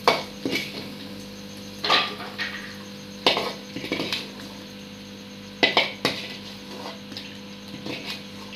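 Dishes clink and scrape as paneer is transferred into another bowl in a home kitchen, several sharp metallic and ceramic knocks spaced irregularly over a quiet background hum.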